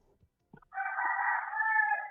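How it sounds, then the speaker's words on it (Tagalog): A rooster crows once, close and loud, a sustained harmonic call of about a second and a half following a few faint knocks, with no talking over it. "Anong pangalan ng manok nyo?"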